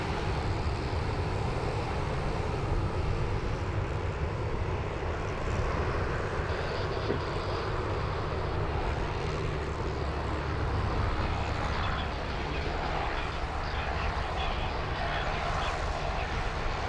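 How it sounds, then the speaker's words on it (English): An ex-Silk Air Boeing 737-800 now flying for Virgin Australia passes at Sydney Airport with a sustained, fairly distant jet engine roar that holds steady throughout. "Is one of the ex-Silk Air 737-800s now flying for Virgin Australia without a name yet."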